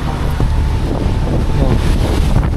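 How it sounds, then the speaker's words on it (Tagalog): Strong mountain wind batters a motorcycle tent during the night, producing a loud, constant, rumbling roar close to the microphone that gusts unevenly throughout, with no talking. "Talagang walang tigil ang lakas ng hangin."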